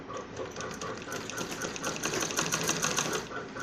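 A sewing machine runs steadily at close range, stitching a curved apple-cut seam on a kurti, its rapid needle chatter continuous and even throughout.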